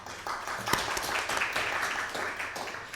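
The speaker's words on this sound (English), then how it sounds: "I take it this is the first time you clap," Audience clapping at the close of a lecture on Salafism in India, a steady dense patter of many hands filling the room at moderate volume, with a voice briefly audible over it.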